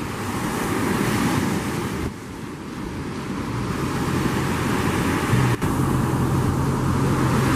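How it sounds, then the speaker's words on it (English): Big ocean waves surge and break at the St Lucia Estuary, a constant loud roar of surf mixed with heavy wind buffeting the microphone and a brief dip in the rush partway through. "I needed a couple of big waves to come in to fill up the gully."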